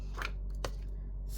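Scissors snipping paper circles for an expandable policy closure envelope: two quick, soft, close cuts over a low background hum.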